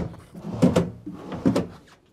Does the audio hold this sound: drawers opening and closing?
yes